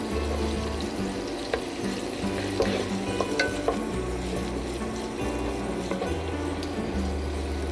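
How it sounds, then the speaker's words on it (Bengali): Prawn filling stirred with onions in a frying pan for potol dolma, with continuous sizzling and repeated scraping strokes of a spatula close up. "আমি সেটু পুরটাও দিয়ে দিলাম পেঁয়াজের সাথে এবং দিয়ে এটাকে একটু নেড়ে দিব।"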